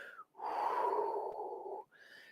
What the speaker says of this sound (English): relax and breathe.